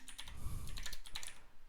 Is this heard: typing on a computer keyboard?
yes